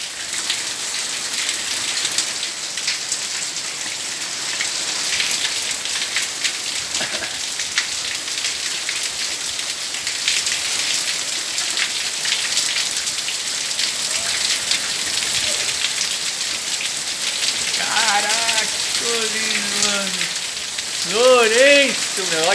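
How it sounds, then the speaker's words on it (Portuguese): Heavy storm rain pouring down onto a roof and surfaces, a dense steady close patter throughout, with a parrot's squawking calls rising over it near the end. "a chuva chegando"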